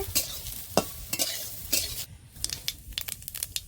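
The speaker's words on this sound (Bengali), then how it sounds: "সোয়াবিনটা একটু ভেজে নিচ্ছে" Nutrela soya chunks frying in oil in a pan while being stirred, with a steady sizzle beneath repeated bright scraping strokes of a spatula against the pan, close and fairly loud, no talking.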